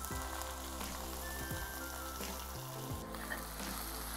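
Chopped onions, cumin seeds and bay leaves fry in hot oil in a pan for a paneer butter masala, giving a steady, close sizzle that carries on without a break and with no one speaking.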